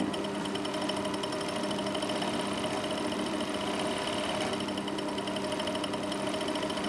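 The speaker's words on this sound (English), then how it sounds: "we're going to overlock the raw edges" An overlocker sewing machine runs steadily while trimming and finishing raw fabric edges, a continuous close mechanical whir with a fast, even stitching rhythm and no pauses.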